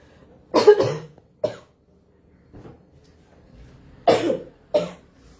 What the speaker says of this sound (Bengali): আমি একটু ক্ষমা চেয়ে নিচ্ছি, কারণ আমার যেহেতু একটু কাশি আছে